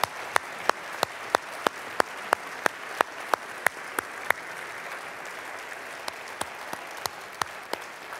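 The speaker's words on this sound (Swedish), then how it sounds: "Låt oss ge alla kvällens medverkande en riktigt stor applåd." Audience applause at a Holocaust remembrance evening comes as slow, evenly spaced claps over a soft background hush, pausing briefly midway before resuming more faintly.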